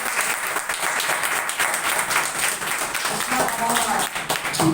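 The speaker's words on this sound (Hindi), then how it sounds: "ताली।" Applause at a Christian preaching and testimony gathering, with a crowd clapping loudly and steadily throughout, dense and sustained without pause.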